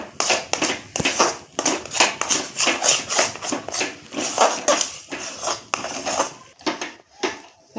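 Rice sandesh mixture made with gobindabhog rice being stirred constantly in a pan over low heat, rhythmic scraping and clinking of a utensil against the metal pan, steady and close for the whole stretch.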